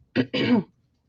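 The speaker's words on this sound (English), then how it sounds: "Excuse my cough. I still have a cough." Two short, close throat-clearing coughs in quick succession, then silence.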